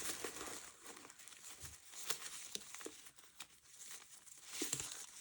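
Orange paper rustles and crinkles in short, soft handling bursts with small taps, close and fairly quiet, no voices.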